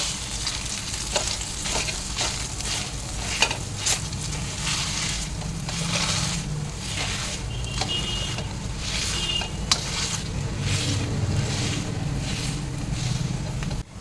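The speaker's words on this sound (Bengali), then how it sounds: "এবারে এই ম্যাশারটা দিয়ে আমি কড়াইয়ের মধ্যেই ম্যাশ করে নেব এবং চেপে চেপে" A close, steady sizzle in a pan with repeated rhythmic pressing and scraping strokes as food is mashed, roughly one press every second.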